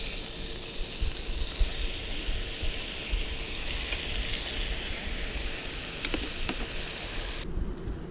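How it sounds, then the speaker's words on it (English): Bacon spits and sizzles in a hot pan on an electric hob, a dense continuous hiss with faint crackles that carries on without talk. "Give that bacon a turn."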